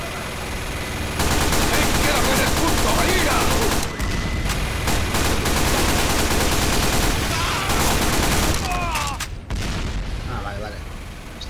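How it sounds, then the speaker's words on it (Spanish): Team Fortress 2 gunfire rattles in dense, loud volleys with booming blasts, nearly nonstop, while voices talk underneath. "Estamos disparando a los compañeros"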